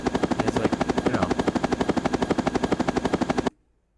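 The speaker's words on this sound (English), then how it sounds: "it's a helicopter." A helicopter sound effect from the Bismark bs-16i app produces a rapid, even rotor chop that thuds loudly and steadily, then cuts off abruptly.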